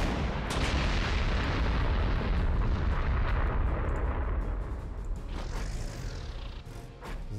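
Artillery fire in the strategy video game Panzer Corps 2: a loud, dense rumble of explosions and booms rolling continuously, then easing into a fading tail with a rising whine near the end.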